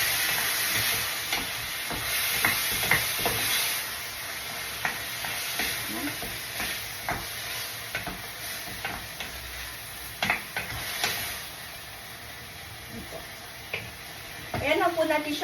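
Sauce bubbling and sizzling in a pan as it simmers, a soft continuous hiss broken by scattered clicks and stirring taps, with a louder clatter at the end.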